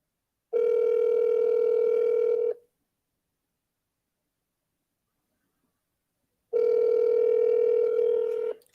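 An outgoing phone call rings out, with two long, steady electronic ringback tones separated by several seconds of silence.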